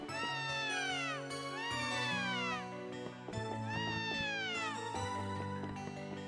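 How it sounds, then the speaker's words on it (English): A creepy-sounding cat in the video game Ys 6 meows in several long, bending wails, one after another over a layer of game music and chimes. "a very creepy sounding cat"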